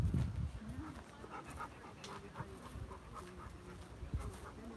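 A dog pants steadily in rapid, breathy bursts close by, outdoors at a plaza during a museum fiesta and car show in Chimayo, New Mexico, with faint background sounds and no talk.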